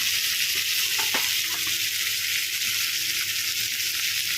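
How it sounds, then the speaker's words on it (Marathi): Tomatoes sautéing in a pan give a steady, loud, hissing sizzle throughout, close up, with a few faint clinks of a utensil partway through. "तर आपण टोमॅटो असं थोडंसं परतून घेणार आहोत"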